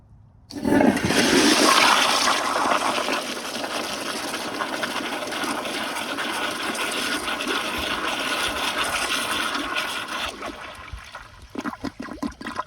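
A 2015 Kohler Highcrest toilet, partially clogged, flushes with a loud rushing gush that holds steady for about ten seconds before tapering into trickles and gurgles, with no talking.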